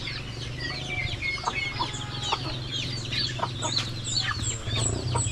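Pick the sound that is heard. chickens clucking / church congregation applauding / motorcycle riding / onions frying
chickens clucking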